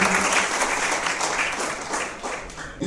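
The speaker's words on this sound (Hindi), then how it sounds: "तालियों से स्वागत किया जाए।" Audience applause welcoming a guest at a foundation day event of an education organisation, dense clapping throughout that fades slightly toward the end.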